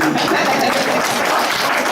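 A church congregation at a Sunday service claps in a dense, steady wash of many hands, loud and unbroken throughout with no pauses.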